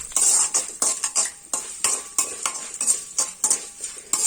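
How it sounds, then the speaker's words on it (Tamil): Chana dal and two dried red chilies being sautéed in oil in an iron oil pan over a medium flame, a spatula scraping and stirring in quick repeated strokes over a soft sizzle, close and clear with no talk. "நான் மீடியம் ஃப்ளேம்ல வச்சு தான் வதக்குறேன்."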